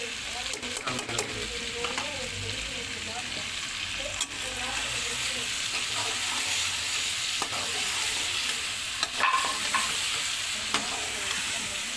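Garlic and ginger paste fries in a pan for chicken karahi, a loud continuous sizzle broken by repeated clattering strokes of a spoon stirring against the metal, with no voices.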